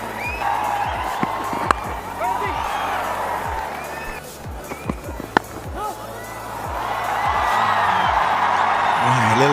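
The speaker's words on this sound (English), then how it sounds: "A little excitement around the crowd." A stadium crowd at a one-day international cricket match between India and Australia roars in a broad, sustained swell that builds again near the end, under a commentator's voice.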